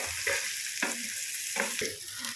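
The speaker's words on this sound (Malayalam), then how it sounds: "അപ്പോൾ ഇത് ഉള്ളിയും വെളുത്തുള്ളിയും നമ്മുടെ തേങ്ങാക്കൊത്തൊക്കെ മൂത്ത് വന്നിട്ടുണ്ട്." Onion, garlic and coconut pieces fry in hot oil in a pan for a Kerala breadfruit curry, a loud steady sizzle broken by several scraping stirs, close and without speech.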